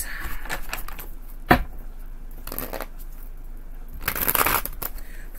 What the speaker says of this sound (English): two more shuffles for Pisces.